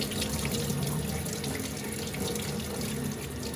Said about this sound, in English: Run it under the cold water.